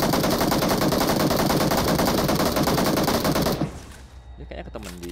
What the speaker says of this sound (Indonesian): Oh ada yang tembakin dari belakang.